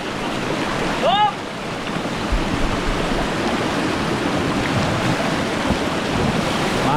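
River water rushes and splashes steadily against a small boat at Pagsanjan Falls, a constant broadband wash close by, with a brief shout near the start.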